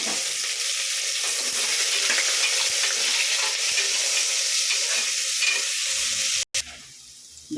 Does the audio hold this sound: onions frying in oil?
yes